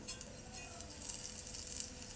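Cumin seeds sizzling in two spoons of hot oil in a heated pan, a soft steady hiss with faint crackles and a light clink near the start.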